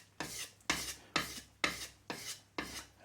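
A blade is stroked along a vintage Washita oilstone thinned with oil, giving six evenly spaced rasping strokes about half a second apart, close and clear with no talking.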